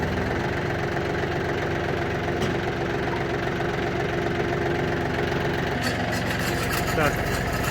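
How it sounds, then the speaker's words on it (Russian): A Yanmar F-210 mini tractor with its rotary tiller working at low speed: a steady, close engine chug with a knocking, vibrating tone that holds throughout, with a voice speaking alongside. "это работа фрезы на пониженной скорости"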